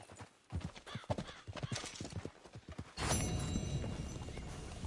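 Horse hooves clopping in Red Dead Redemption 2, a quick run of close, rhythmic hoofbeats that gives way to a louder, denser rush of galloping and rustling noise partway through.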